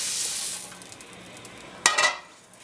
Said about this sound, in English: we give them a quick saute